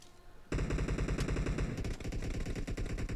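PUBG Mobile gunfire: after a short quiet start, sustained rapid automatic bursts ring out loudly and continuously to the end, with no talk.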